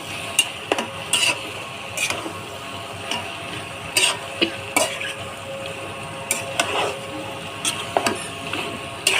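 Beef tripe stir-fried in a pan, heard as a steady sizzle with repeated sharp scraping strokes of a spatula against the pan at an irregular rhythm.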